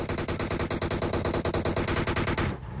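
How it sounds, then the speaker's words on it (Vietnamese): Rapid automatic gunfire in the PUBG Mobile battle game rattles in a fast, even burst of shots for over two seconds, loud and close, then cuts off abruptly. "Ô bắn nhau à."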